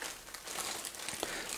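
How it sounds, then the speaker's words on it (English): Soft, continuous crinkling of a thin plastic bag being removed from an apple peeler/corer/slicer box, with small crackles throughout, fairly close and quiet. "It's just a plastic bag. And I'll remove that."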